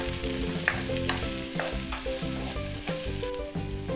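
Sausage stir-fried with garlic, onion, carrot and bell pepper in a hot pan for a Korean-style dish, loud steady sizzling with rhythmic stirring scrapes and clacks throughout, close and without talk.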